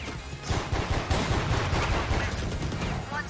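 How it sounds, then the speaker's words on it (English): Rapid automatic gunfire from a video game fires in a dense, continuous burst of overlapping shots at moderate loudness, with no speech over it. "I have so much ammo, I'm just mag dumping into these dudes"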